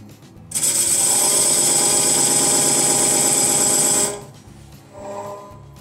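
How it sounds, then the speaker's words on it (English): A wood lathe spins a thick, heavy maple platter blank at 500 RPM, its loud steady whir with a high whine running for about three and a half seconds. It then winds down, and a fainter hum follows. "I'm going to just turn this at 500 RPM and scribe that line"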